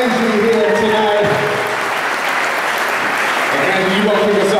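Wedding reception guests applauding for the toast givers, loud clapping and crowd noise mixed with lively voices talking over it throughout.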